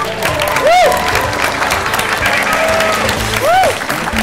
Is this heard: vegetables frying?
no